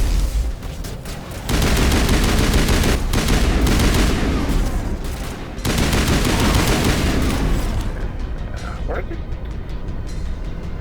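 Rapid rifle gunfire bursts in the video game Mass Effect, loud and dense, broken by brief pauses before tapering off near the end.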